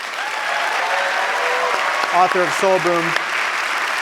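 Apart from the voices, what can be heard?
audience applause for Rainn Wilson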